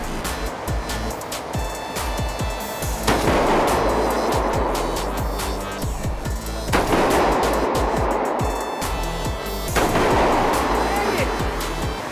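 Shotgun firing at clay targets on a trap shooting setup at an indoor shooting range: three heavy, booming shots roughly three seconds apart, each with a long rumbling decay, over steady background music.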